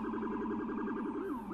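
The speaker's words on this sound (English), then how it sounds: "I noticed and heard the ambulance sirens blaring pull into the front of the home." Wailing ambulance siren from a cemetery visual novel game, a loud continuous two-tone warble sweeping up and down steadily, with no voices over it.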